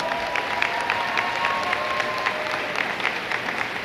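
Steady audience applause at a medal ceremony, a dense patter of many hands clapping at moderate volume from a distance, with no voices over it.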